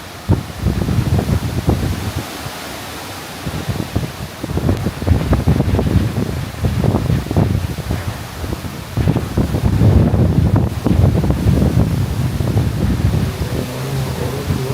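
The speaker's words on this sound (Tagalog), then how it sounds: "malakas pa yung hangin sa ulan" Strong wind with rain buffets the microphone, roaring and gusting loudly and continuously around a house, with rustling in the background.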